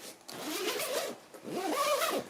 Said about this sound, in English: The zip puller is 2-way, so you can either do it from the inside or out.